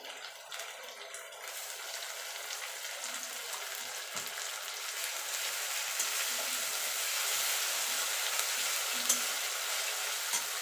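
Ginger-garlic paste frying with golden-browned onions for rajma, a continuous close sizzle that grows slightly louder, with soft stirring scrapes underneath and no talking.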